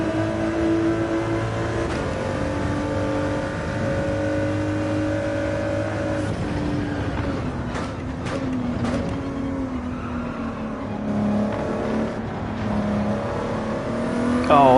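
Race cars in a racing video game, engines droning steadily then rising and falling as the cars rev, pass and shift, with brief sharp ticks over the continuous loud motor tone.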